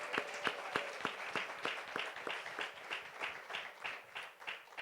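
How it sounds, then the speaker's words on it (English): Audience clapping at a university memorial lecture, a sparse, rhythmic round of applause from a modest crowd, individual claps distinct and fairly soft, steady throughout with no voices over it. "I would like you guys to give her a round of applause for that."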